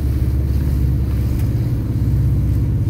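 A car engine pulls smoothly in second gear up a ramp at about 2,000 RPM, giving a steady, loud, low rumble that runs without a break from start to finish.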